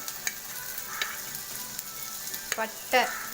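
Garlic, chillies and curry leaves fry in a pan for Tamil egg gravy. A continuous soft sizzle is broken by a few sharp crackles and the scrape of stirring near the end, with no talking.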